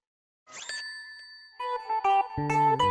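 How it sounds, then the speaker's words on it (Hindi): An incoming call on a phone, a short electronic ringtone melody of chiming tones that starts after a brief silence and grows louder and fuller, playing alone without talk. "एक फोन आ रहा है।"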